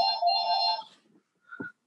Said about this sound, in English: I'm just going to turn this phone off.